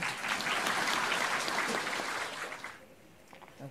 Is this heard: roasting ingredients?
no